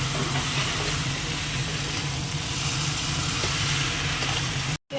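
Goat meat with potato, tomato and green chilli fries in a pan, making a loud, continuous close sizzle with faint stirring, cutting off abruptly just before the end.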